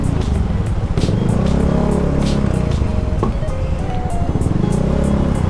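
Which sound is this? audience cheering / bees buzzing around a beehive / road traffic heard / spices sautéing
road traffic heard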